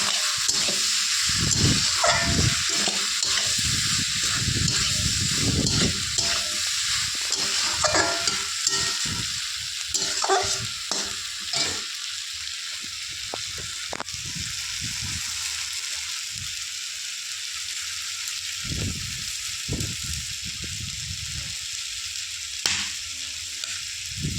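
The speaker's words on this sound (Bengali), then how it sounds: "তো মশলা কষানো হয়ে গেছে, আমি দিয়ে দিয়েছি, কষিয়ে নেবো একটু।" Onion and spice masala frying in a pan, a continuous close sizzle broken by repeated scraping and stirring strokes, with a hiss of steam underneath.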